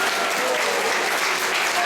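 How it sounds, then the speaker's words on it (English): A temple audience at an ISKCON Sunday class claps in a brief, dense burst of applause, even and sustained throughout. "So let's give a round of applause for Iskcon in Panihati."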